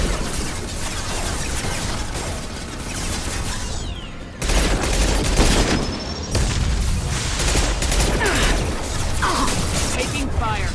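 Combat gunfire in Mass Effect 2, with dense, sustained bursts of weapon fire and booming impacts running throughout, loud and close, while voices call out over the shooting.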